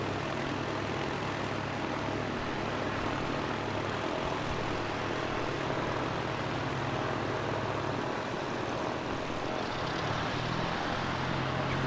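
An ATR turboprop airliner inbound to Christchurch Airport, New Zealand, gives a steady low propeller drone that holds at an even level throughout, heard alone with no voices.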